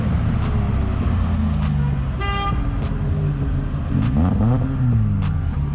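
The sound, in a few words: car engine revving with loud exhaust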